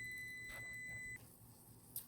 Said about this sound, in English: that timer is about to go off.